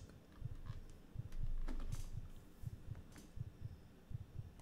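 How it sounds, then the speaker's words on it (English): A low, muffled heartbeat throbs in a steady rhythm inside the horror video game The Closing Shift, soft and close, with faint background hum and a few brief light noises. "Why is my heart beating?"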